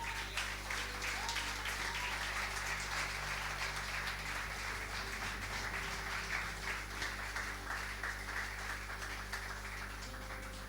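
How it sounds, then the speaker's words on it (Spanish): A church congregation applauding together, a steady, dense wash of clapping that holds for the whole stretch, loud and close with a low hum underneath. "Dale un aplauso a Él."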